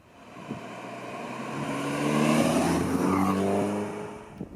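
A 2016 Audi TT Roadster with a 230 hp 2.0 TFSI turbo petrol engine revs up, its note climbing and holding strong and near, then easing off, heard alone with no talk.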